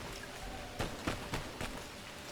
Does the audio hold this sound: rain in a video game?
yes